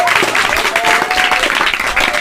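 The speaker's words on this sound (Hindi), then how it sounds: "बहुत ताली बजाओ भाई सब लोग" Audience applause at a free Gurukulam class for underprivileged children, dense and steady clapping from many hands filling the room after a children's devotional song, loud and continuous throughout.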